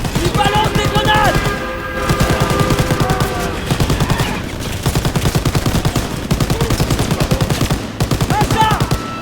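Rapid automatic gunfire from Call of Duty WW2 during a battle aboard a German train, sustained bursts almost without pause across the clip, with game music and voices layered underneath.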